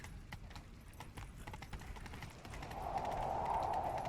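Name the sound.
horses galloping, from a video game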